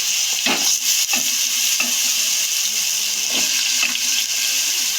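Raw banana pieces go into a hot frying pan with turmeric, giving a steady sizzle of oil with a few sharp scraping knocks as they are stirred in, close and continuous.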